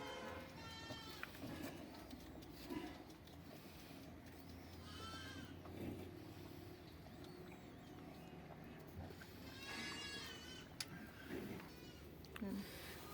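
A goat that has recently given birth bleats a few times at moderate distance, short wavering cries breaking through quiet background noise with a person talking nearby.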